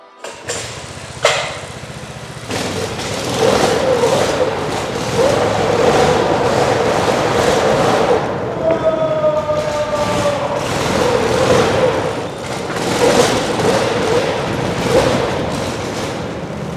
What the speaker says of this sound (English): Finally, we are able to drift our own drift kart.